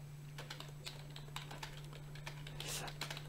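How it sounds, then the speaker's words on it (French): Rapid, uneven keystrokes on a computer keyboard, tapped out one-handed, come in quick clusters over a steady low electrical hum, fairly quiet and close with no voices. "je tape d'une main"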